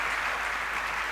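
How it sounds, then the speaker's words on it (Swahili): A church congregation applauds together during a sermon, a dense, steady burst of many hands clapping with no voices over it. "Pike makofi juu ya neno la Bwana."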